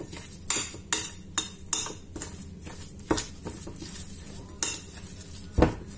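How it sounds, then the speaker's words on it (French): Homemade bread dough being mixed well in a bowl, a series of soft irregular thumps and clacks from a utensil against the bowl with quiet wet stirring between, close and fairly faint, no voices. "Mélangez bien, bien, bien, bien."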